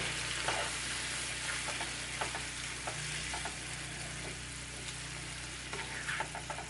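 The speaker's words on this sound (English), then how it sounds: "Just lower the flame now, let it simmer, everything will soften up." A fresh tomato topping for sautéed salmon simmers over a lowered flame in a pan, a soft continuous sizzle with small pops and occasional stirring scrapes, close and fairly quiet.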